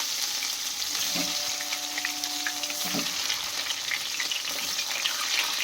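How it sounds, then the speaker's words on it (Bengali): Eggs frying in oil with turmeric and red chilli paste, a steady close hiss and crackle of sizzling that runs through the whole stretch, with faint tonal whines and a few soft stirs behind it. "এবার ওতে ডিমগুলো দিয়ে ডিমগুলো ভেজে নেবো"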